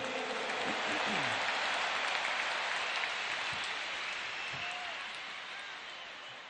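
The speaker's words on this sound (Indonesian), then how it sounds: "Tepuk tangan dulu yang meriah untuk Gus Muhaimin." A large crowd at a political speech event gives Gus Muhaimin a lively round of applause, a dense sustained roar of clapping that slowly fades toward the end.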